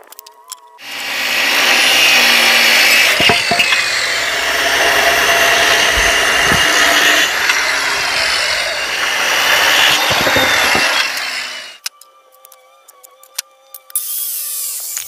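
A power saw cuts through wood for deck planter shelves, a loud close whining rasp lasting about eleven seconds before it stops and spins down, leaving faint clicks and handling noise.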